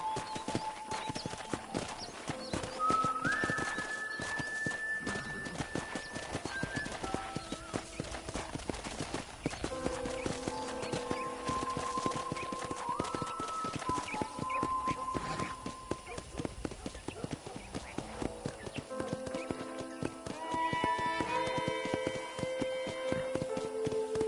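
In the Red Dead Redemption 2 game, a ridden horse trots on a ranch with rhythmic hoofbeats throughout, under soft orchestral music.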